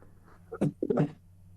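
A man sneezes once in a radio studio during a political discussion, a short sharp burst with a brief intake before it, fairly close and loud over low background hum.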